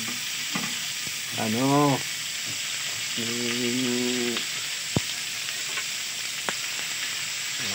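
Fried eggplant sizzles and crackles in oil as it is stirred in a pan, with several sharp scraping stirs over a constant frying hiss while a person talks.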